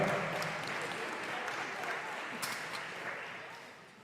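A crowd at a basketball game claps steadily as a player is introduced, with the applause slowly tapering off. Faint voices sit under the clapping.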